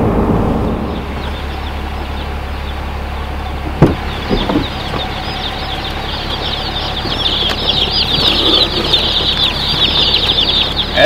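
A large flock of Freedom Ranger chicks cluck and chatter together close by, a dense continuous noise with occasional wing flaps and rustling.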